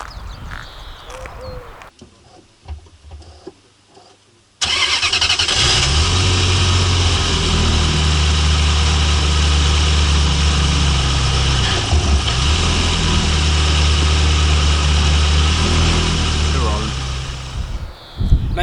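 A Ferrari F355 starting up with a brief crank, then catching into a loud, close, steady idle that hums on smoothly with slight rises, after a few seconds of quieter background before ignition.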